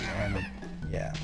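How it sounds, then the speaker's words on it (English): Chickens and a rooster squawk and honk in the background on a farm while someone talks over them, the bird calls steady and moderately loud beneath his voice. "I apologize if you hear chickens freaking out in the background."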